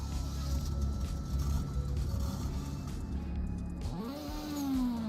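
A $2.7 million limited sports car in the Roblox game Greenville: a steady engine drone that drops away, then a rising rev climbs smoothly in pitch near the end, with no talking.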